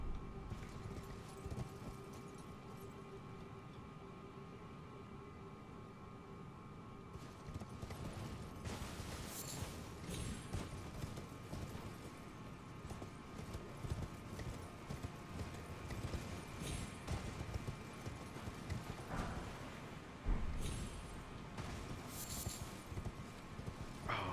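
Horse hooves clip-clopping in Elden Ring, a steady faint patter of hoofbeats with occasional creaks and brief louder thumps over a quiet game backdrop.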